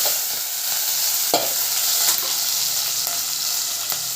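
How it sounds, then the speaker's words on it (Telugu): Onions and green chillies sizzle steadily in a pan for a dried prawn and tomato curry, a bright continuous frying hiss broken by a few sharp stirring scrapes, close and fairly loud. "ఉల్లిగడ్డ, పచ్చిమిరపకాయలు అయితే వేగినాయి"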